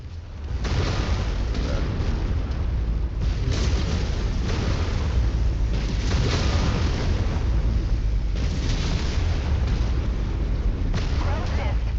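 Mech weapon explosions from the MechWarrior 5 video game on Solaris 7, a dense, continuous barrage of loud booms and blasts rolling without pause, with game voice lines faintly mixed in.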